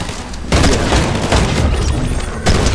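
Loud, deep booming blasts in Fortnite: two heavy gunshot-like bursts about two seconds apart, with rumbling noise between them and no talking.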